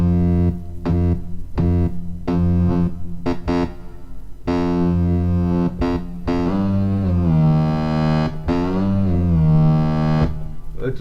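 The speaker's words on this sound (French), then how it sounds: "Tout ça à partir d'un kick en fait." A kick drum reshaped into a drum and bass bassline, processed with reverb and distortion, plays as a loud, sustained, buzzing low tone in choppy repeated bursts with gliding pitch, alone without talk.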